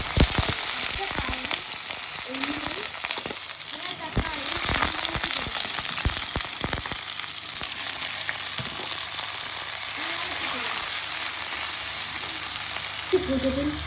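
Oil sizzling and crackling in a pan while frying ingredients for Kerala green banana theeyal, a steady close sizzle with sharp pops early on and stirring sounds, and a voice now and then.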